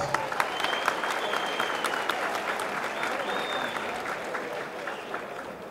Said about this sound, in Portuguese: Gostaria de pedir uma salva de palmas para todos vocês